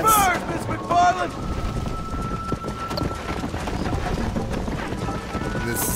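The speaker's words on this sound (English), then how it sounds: "I think you chose the wrong horse, Miss McFarland." A horse gallops in the Red Dead Redemption video game: loud, close hoofbeats in a steady rapid rhythm that runs throughout, mixed with wind rush, and a brief vocal-like cry near the start.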